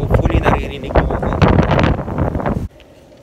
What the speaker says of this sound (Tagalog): Pasensya na kayo, medyo mahangin ha.